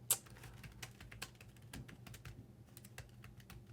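Fingers tap out a book title on a computer keyboard in a quiet room, with a steady run of light, crisp keystrokes and one louder tap near the start.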